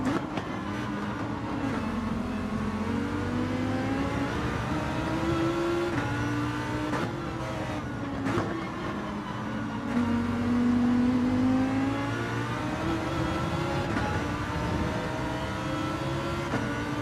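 Race car engine in Gran Turismo 7 during a Fuji daily race, droning loudly and continuously with rising and falling pitch as it accelerates and shifts through gears, sustained throughout with no talk.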